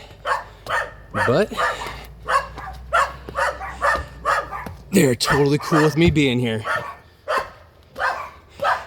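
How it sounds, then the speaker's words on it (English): Several dogs bark repeatedly near a mountain cabin, loud and close, overlapping with someone talking, with some yips and whines mixed in. "there are a lot of barking dogs"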